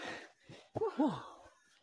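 Heavy, breathy panting after a steep uphill climb during a rescue search, several close, ragged breaths and gasps rising and falling with no talk.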